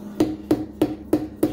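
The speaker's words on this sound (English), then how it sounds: "You get a rubber mallet or just a normal hammer or whatever." A hammer taps tape against the machined edges of a 1.8 Miata engine block, five evenly spaced sharp knocks close to the mic with no talking.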